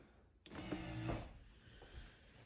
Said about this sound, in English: pop up your headlights using your headlight pop-up button